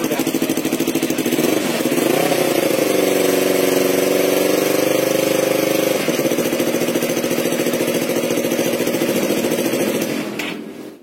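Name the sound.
Yamaha R25 motorcycle with original Sakura exhaust running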